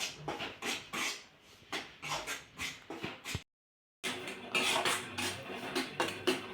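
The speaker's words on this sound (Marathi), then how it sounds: "मध्यम आचेवरती हे पीठ आपल्याला खमंग भाजून घ्यायचं आहे" Wheat flour is dry-roasted in a pan over medium heat, a spatula scraping and shuffling against the metal in quick repeated strokes, close and clear, with a brief silent break midway before the scraping resumes.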